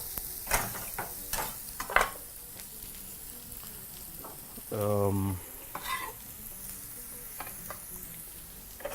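Chopped garlic sizzles in a pan alongside onions, a fairly faint fry broken by sharp scrapes and knocks of a wooden spoon stirring, with one brief rougher burst midway and no talking.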